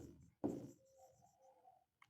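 Marker or chalk writing on a board while solving a class 12 maths area-under-curve exercise: one sharp scrape, then a light steady squeaking stroke, close and alone with no talk.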